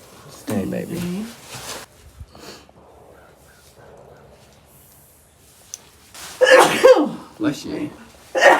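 A horse sneezes with a sharp snort early on, and more sneezing and snorting follows later, close by, with people talking softly in between.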